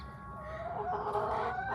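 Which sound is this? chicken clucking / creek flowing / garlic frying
chicken clucking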